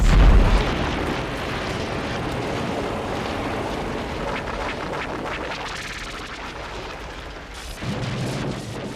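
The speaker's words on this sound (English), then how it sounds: "The destruction of the Klingon vessels." Klingon vessels explode in a Star Trek film sound effect, a sustained, rumbling roar of blasts and booms that swells loud and then fades, with a fresh low surge near the end.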